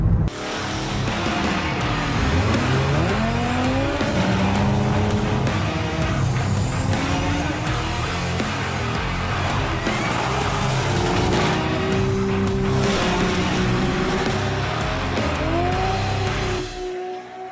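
A station wagon engine with 220,000 miles roars and revs up and down while tires squeal in long rising whines, loud and close throughout.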